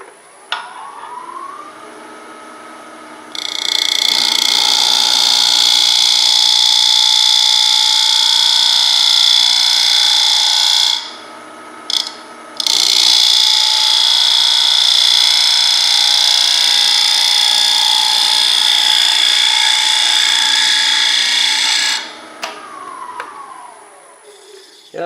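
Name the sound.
wood lathe gouge cutting an ash bowl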